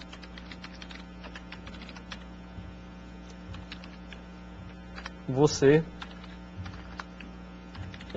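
Rapid, uneven key clicks from a computer keyboard being typed on during a programming lesson, with a brief louder flurry of keystrokes partway through and someone speaking over the typing.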